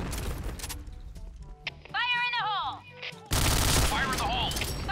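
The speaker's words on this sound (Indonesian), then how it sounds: "Aku ditembak sama bapaknya, Dre." Gunfire in the first-person shooter PointBlank, dense bursts of shots with game effects and tonal sweeps, loud and close, ending in a heavy sustained barrage.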